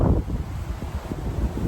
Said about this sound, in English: but gusty wind is frustrating